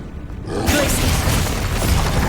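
A Confringo spell explosion in the video game Hogwarts Legacy bursts suddenly after a brief quiet lead-in, then rolls on as a loud, broad blast that fades slowly.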